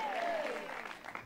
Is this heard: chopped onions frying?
no